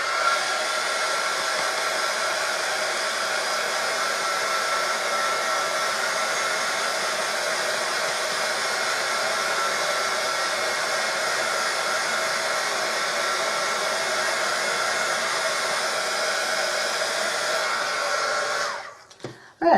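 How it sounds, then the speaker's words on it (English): A heat gun runs continuously at a steady, loud whoosh while drying paint on a small vintage-style washboard craft, holding an even roar for nearly the whole stretch before cutting off at the end. "excuse the noise of the heat gun again, but I need to dry this."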